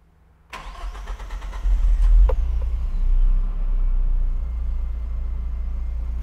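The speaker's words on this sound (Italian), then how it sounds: "Lo scarico è originale, adesso ve la faccio sentire." A Japanese-market car with its original exhaust cranks and fires up, a quick starter whir giving way to a deep rumble that settles into a steady, smooth idle, close by in a garage.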